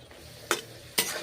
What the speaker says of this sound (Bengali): কষে নিচ্ছি বেগুন, নেড়ে চেড়ে। মশলা মিশে যাবে বেগুনের সঙ্গে